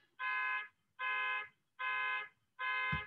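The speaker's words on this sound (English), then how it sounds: "car alarm." Car alarm blaring nearby in a repeating pattern of four evenly spaced loud tonal blasts, each about half a second long with short gaps between, heard alone with no talking.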